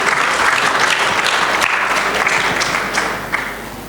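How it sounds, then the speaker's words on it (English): An audience at a church discourse gives a steady round of loud, dense applause that holds evenly before easing slightly toward the end. "So I think they deserve an applause."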